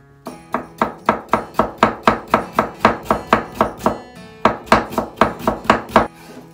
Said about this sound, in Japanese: 玉ねぎも細切りです。